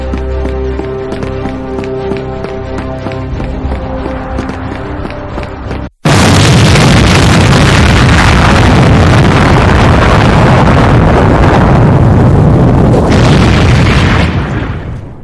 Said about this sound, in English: Now the water park and hotel rooms are exploded.